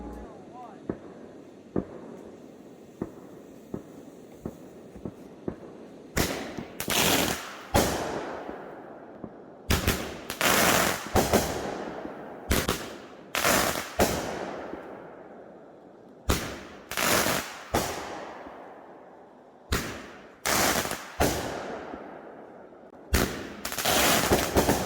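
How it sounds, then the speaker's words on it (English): Large backyard fireworks launch and burst one after another on the Fourth of July, loud sharp booms with crackling tails, arriving in uneven clusters over quiet background noise. "so I launched one of our bigger fireworks"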